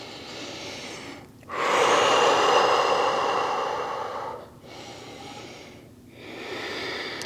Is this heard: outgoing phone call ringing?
no